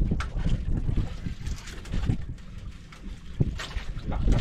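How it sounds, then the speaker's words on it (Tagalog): Strong wind buffets a boat at sea, roaring and gusting into the microphone with irregular thumps and rushing water, loud and close throughout, with no speech. "Lakas na ng hangin na yan."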